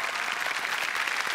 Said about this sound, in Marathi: जोरदार टाळ्यांनी आपण स्वागत करूयात